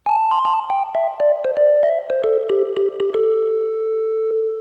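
Casio VA-10 keyboard run through its Stadium distortion effect: a series of thickened, slightly gritty synth notes, played one after another in a quick melodic run and settling into a sustained held tone at the end, close and fairly loud, with no voice.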